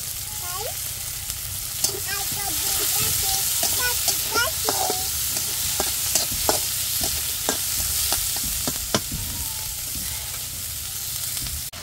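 Chopped onions and green chillies fry in a pan with oil, a steady close sizzle broken by frequent scraping stirs and clinks of the spatula, with no talk.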